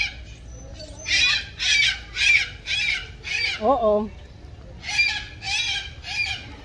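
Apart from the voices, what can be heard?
birds calling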